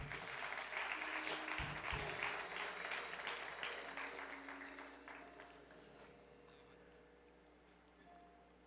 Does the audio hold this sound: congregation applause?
yes